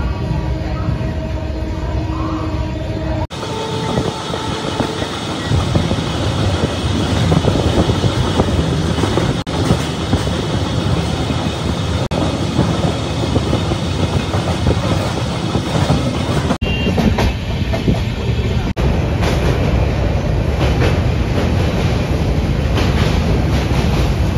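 Sealdah–Puri Duronto Express 22201 running through Dum Dum Junction without stopping: a loud, steady onboard rumble with rhythmic wheel clatter and rail noise, sustained throughout, with brief sharp clanks and no talk.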